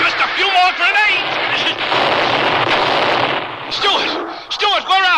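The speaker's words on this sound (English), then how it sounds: "Just a few more grenades!" Grenade explosions boom in an old-time radio drama, a roaring blast-and-rumble stretch in the middle, framed by excited voices shouting before and after.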